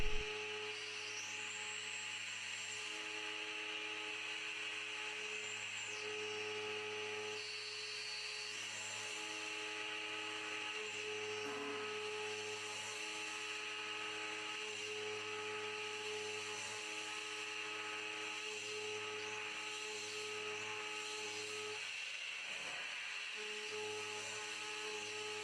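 High-performance jet-cut milling of 32RC steel on a finish pass at two times diameter, a steady loud whine with layered tonal hums running continuously throughout, no chatter.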